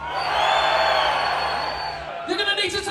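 Crowd at the Golden Gods metal awards in London roaring and cheering loudly and steadily, the noise dipping near the end as a few whoops and voices come through.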